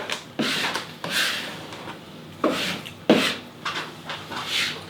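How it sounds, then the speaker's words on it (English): Close, scratchy strokes of an X-Acto knife trimming the edges of camo wallpaper, with about six separate cuts and rubs in an uneven rhythm and no talking. "I'm going to come back now with my X-Acto knife and trim all this up."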